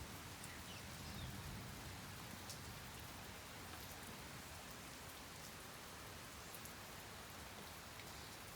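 Rain from an afternoon thunderstorm pours in a continuous soft hiss with fine patters of drops on surfaces, even and low in level, with no voices throughout the stretch.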